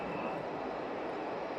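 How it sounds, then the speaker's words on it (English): A boring mill machines riding mill housings for a forging machine in a casting factory, giving a steady, droning mechanical roar with a broad hiss and no voices. "This is a boring mill."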